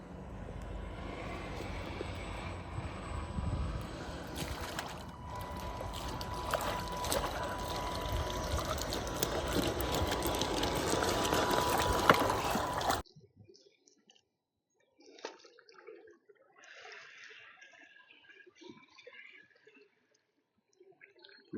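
KingKong RC 1/10 SHERP radio-controlled truck driving into water, a loud continuous whirring motor with splashing and water churn for about thirteen seconds, then a sudden drop to faint scattered trickles and small motor sounds.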